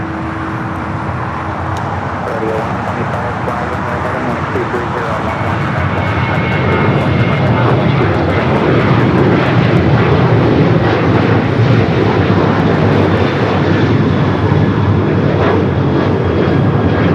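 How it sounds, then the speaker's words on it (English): An Air Canada Boeing 787 Dreamliner arriving from Toronto at LAX, engine noise swelling from a moderate rumble into a loud, sustained roar that holds to the end, with talking over it. "the Air Canada Dreamliner coming from Toronto"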